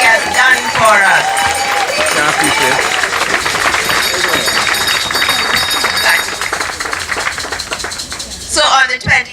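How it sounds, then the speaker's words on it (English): Audience applause for an honoured guest at a gathering, a dense, steady round of clapping and crowd noise running throughout, loud and near, with voices mixed in and a sharp burst near the end. "Let's give him a round of applause"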